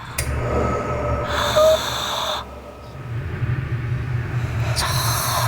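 Eerie, heavy, labored breaths rasp in and out in a few drawn-out bursts with quiet gaps between, close and ominous, with no talking.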